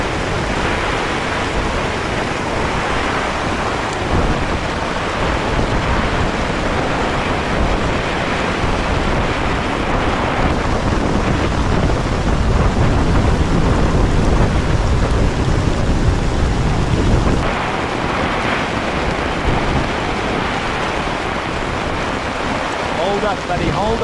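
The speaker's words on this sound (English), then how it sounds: "storm raged on" Dense, constant roar of a raging storm at a campsite, with wind, heavy rain and rumbling thunder blending into loud broadband noise that barely lets up.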